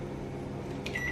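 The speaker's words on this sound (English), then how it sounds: "turn the microwave on in bursts of 10 seconds at a time" A microwave oven hums steadily on high power while heating chocolate in short bursts, and a faint high beep sounds near the end.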